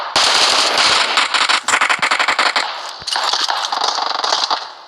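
Dense automatic gunfire in the PUBG video game, with loud rapid bursts of shots and brief pauses between volleys, close and dominant throughout.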